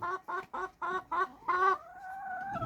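A hen clucks close by in six quick, evenly spaced bursts, then draws out a longer rising squawk.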